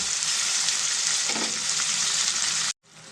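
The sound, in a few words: tomatoes with masala frying in a pan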